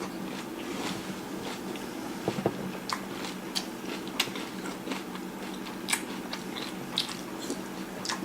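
Crunchy Honey Bunches of Oats cereal being chewed close up, a quiet run of irregular crisp bites and crunches repeating throughout.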